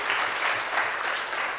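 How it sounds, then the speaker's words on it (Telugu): A church congregation claps in praise of God, a loud, continuous wash of many hands that carries on evenly throughout. "చప్పట్లు కొట్టి దేవుని స్తుతిద్దాం"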